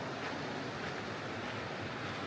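Water of the Soča river in Slovenia rushes in a steady, dense broadband roar, with no break and no voices.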